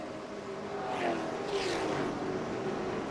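NASCAR Toyota late model race cars at Irwindale speedway, their engines roaring steadily with two rising whooshes as cars sweep past close by, under a continuous wash of track noise.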